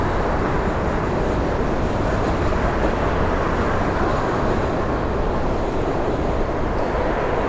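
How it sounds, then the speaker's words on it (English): A New York subway N train rumbles beneath the Queensboro Bridge as a continuous, loud broadband roar that stays steady for the whole stretch, heard from directly above with no speech. "That's an N train running right under us."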